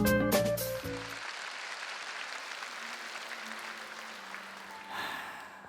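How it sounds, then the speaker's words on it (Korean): Members of a Korean church congregation at a Sunday service clap in welcome for a pastor, a soft steady patter of applause that starts with a brief burst of louder sound and fades gently over several seconds. "박수로 맞아주세요."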